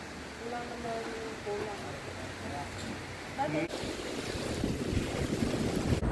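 Strong wind buffets the microphone with rough rushing noise that swells in the second half, while a person talks briefly at the start.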